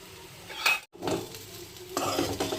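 Bottle gourd (dudhi) dhokla mixture is stirred and scraped in a vessel, a close, steady rasping that breaks off for a moment and then carries on a little louder.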